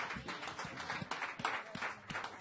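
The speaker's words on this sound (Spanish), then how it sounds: "Dale un fuerte aplauso" A church congregation at a Spanish-language service claps together in a steady, dense rhythm, faint and diffuse across the room.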